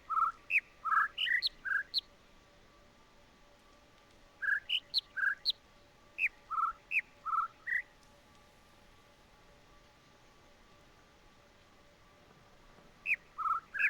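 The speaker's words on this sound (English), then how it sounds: "Welcome to Bird Listening." Birds chirp in the puzzle video game The Witness, with clusters of bright, rising calls in separate bursts, each a few quick notes, sounding clearly over near silence with long pauses between.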